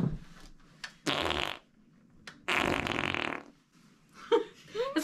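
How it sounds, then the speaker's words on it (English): Toy that pumps out air to make fart noises, giving two long, loud raspy blasts separated by short gaps, with faint voices at the end. "Every time this thing like pumps out air, you could have a fart."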